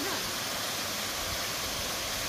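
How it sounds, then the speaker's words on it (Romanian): A waterfall at the Roman baths of Geoagiu Băi roars as a steady, dense wash of rushing water, loud and unbroken, with no voices. "Și aici e faină cascada asta."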